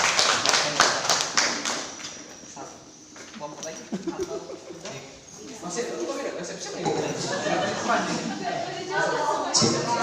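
A room of teachers or students claps at a school restorative-practice session, starting with brisk hand claps that soon thin out as people begin talking over them.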